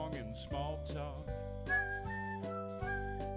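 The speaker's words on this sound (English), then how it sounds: "Warming up my whistle chops." Someone whistles a bouncy melody of short, pitched notes over a steady musical backing, close and clear, with no talk during the tune.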